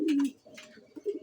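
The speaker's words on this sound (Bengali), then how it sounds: "আমি 6 পেয়ার কবুতর খাঁচায় রেখেছি।" Caged pigeons giving a short, low cooing call close by, one rolling coo followed by softer murmurs, with no talk.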